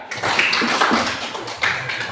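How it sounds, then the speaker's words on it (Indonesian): Classroom applause, a burst of many hands clapping in a quick uneven patter, fairly close and moderately loud, easing briefly before picking up again. "Tepuk tangan dulu sama mereka"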